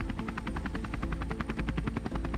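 A crop-spraying helicopter flies low over a corn field, its rotor beating in a fast, steady rhythmic thump with a loud continuous engine roar.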